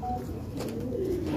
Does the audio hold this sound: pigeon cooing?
yes